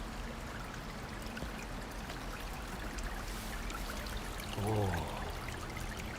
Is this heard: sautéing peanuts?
no